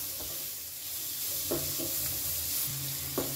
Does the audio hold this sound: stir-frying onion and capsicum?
yes